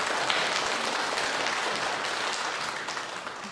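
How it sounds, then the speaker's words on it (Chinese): Applause from a church congregation thanking the choir after its hymn at a Taiwanese-language Sunday service, a steady, dense wash of clapping that holds evenly throughout and fades slightly toward the end. "拍手感谢人儿教会献诗"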